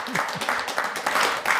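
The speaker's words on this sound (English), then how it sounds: "it's traditional that we give a big round of applause and thank you to our hosts, Tim McAlpine and Michael Berger" Applause for the hosts of a creative commission gathering at a Chilliwack coworking space, a short burst of clapping from a modest audience with a voice briefly audible at the start.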